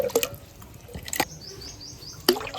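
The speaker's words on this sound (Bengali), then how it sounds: "এখন আরও 5 বাটি জল দেবো।" Bowls of plain water are poured onto sago pearls in a pan, sounding as splashy pours and drips between a few sharp knocks of bowl against the vessel, close, with no speech.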